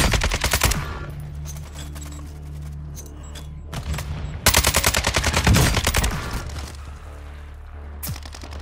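Rapid automatic gunfire in Warzone 2.0, loud bursts of dense repeated shots with brief pauses between volleys and heavier booming bursts midway.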